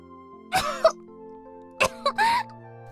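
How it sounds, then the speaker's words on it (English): A character in a visual novel breaks into a coughing fit, with two clusters of harsh, close coughs and throat-clearing over faint background music. "she'd flopped over and gone into a coughing fit"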